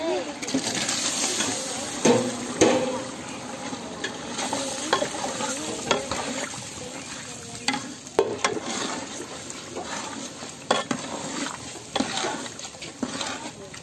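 Chopped tomatoes fry for chicken biryani, a loud, close sizzle with repeated stirring scrapes and metal clinks against the pot, while someone talks throughout.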